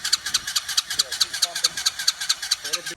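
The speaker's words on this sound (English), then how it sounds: "So I've cranked her quite a bit. She still ain't started." A Mini Jeep's small engine cranking without catching, a rapid regular chugging of starter turns, loud and close, with a voice speaking briefly over it before it cuts off.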